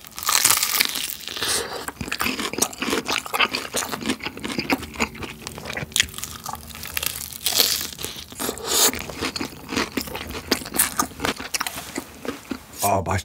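Crispy Mexicana garlic fried chicken crunches loudly and close up as someone bites into it, with repeated sharp crackles and chewing bursts coming in irregular clusters, and a voice briefly speaks between bites.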